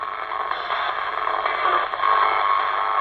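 Spirit box radio sweeping rapidly through stations, a continuous loud hiss of static with choppy flickers of broadcast fragments, heard alone with no talk during a paranormal investigation.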